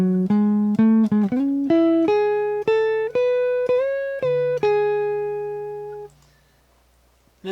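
Electric guitar plays a lick, a run of clean, sustained picked notes and bends, each with a sharp attack, ringing close and alone before fading into silence at the end.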